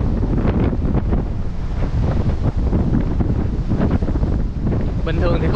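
Very strong wind roars across the beach at Mui Ne in Phan Thiet, Vietnam, during the windy season, buffeting the microphone with a loud, steady rush that never lets up.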